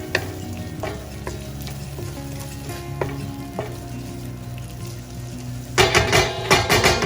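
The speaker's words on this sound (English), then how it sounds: "allow for the ginger garlic to cook along with the onions" Onions with ginger and garlic frying in a pan for spicy egg masala, a steady sizzle under a tonal background hum, with a few light stirring scrapes and a louder burst of sizzling near the end.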